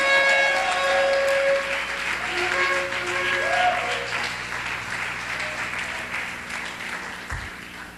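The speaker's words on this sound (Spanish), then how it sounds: "Dale un fuerte aplauso a Jesús." Strong applause from a church congregation for Jesus, a continuous full wash of clapping with some sung or called-out voices and a sustained tone underneath, gradually easing.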